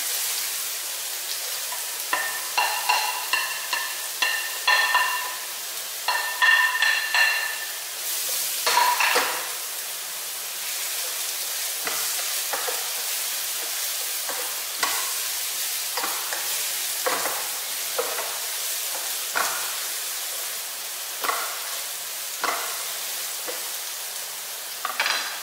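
Vegetables with half a red chili and carrot are stirred and fried in a pan for squid fried rice, giving a steady close sizzle broken by repeated scraping and clattering strokes of a utensil against the pan.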